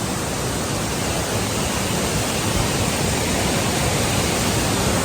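Steady, loud rush of a waterfall at Paderu, water pouring down from above in a continuous broadband roar with no breaks, heard close by and without talk.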